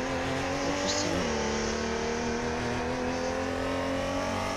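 A car cruises along a highway in a video game, a steady droning engine tone that shifts gear once early on and then holds even, with no break in the noise.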